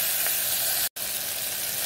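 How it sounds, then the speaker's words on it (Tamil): Onions, tomatoes and green chilies sauté in a hot pan with a continuous, close sizzle, broken by one brief silent cut, and no talking. "இப்போ வெங்காயம், தக்காளி, பச்சை மிளகாய் போட்டு நல்லா வதக்கிக்கலாம்."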